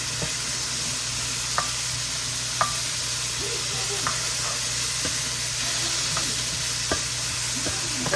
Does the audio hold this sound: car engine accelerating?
no